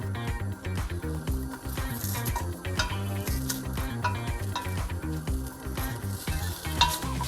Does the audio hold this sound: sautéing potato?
yes